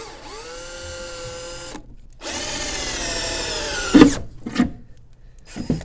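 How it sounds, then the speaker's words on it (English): A power drill bores holes for battery kill switch hardware in a car, with two long whining bursts that start and stop abruptly, followed by a few short thumps and rattles as the drilling ends. "now it's time to drill the holes for my hardware"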